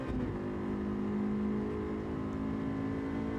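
A racing game car engine holds a steady high rev near 8,500 RPM, a dense continuous drone with strong harmonics running unbroken and loud throughout.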